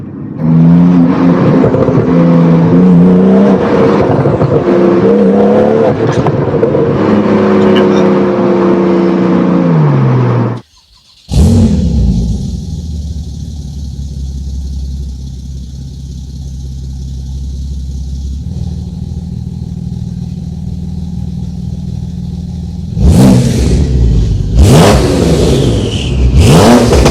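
A Stage 2 tuned Porsche 911 Turbo engine revs hard on a track, rising through loud sustained pulls. After a brief cut it continues with a steady engine drone and more sharp revving surges near the end.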